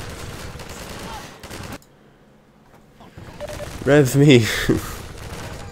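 Enemy gunfire in Half-Life 2 crackles as a dense burst of rapid shots, breaks off into a brief near-silence, then returns loud and close with a voice speaking over it.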